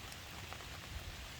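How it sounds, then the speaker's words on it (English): Steady rain falls on a forest hammock camp in the backcountry, a dense, even hiss of drops pattering on surfaces, constant and close with no voices. "enjoying my big screen TV of ambient rain noises and forest noises"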